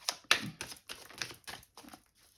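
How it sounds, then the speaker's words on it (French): Tarot cards are reshuffled by hand, producing a quick series of crisp, papery riffling snaps, close and fairly loud, in irregular bursts that fade out at the end. "J'ai déjà battu les cartes, mais je les rebats devant vous, comme ça."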